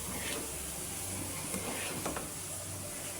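A spoon stirs thickening payesh, a milk rice pudding cooking in a pot, over a steady bubbling sizzle and hiss. The scraping is faint and irregular, sitting under the continuous simmer.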